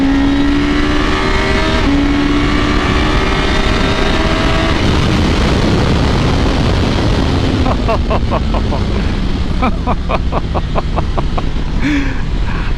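A 2022 Suzuki GSX-S 1000GT touring motorcycle accelerating hard from second gear, the engine note climbing steadily through the revs and then shifting up, loud and continuous under wind roar.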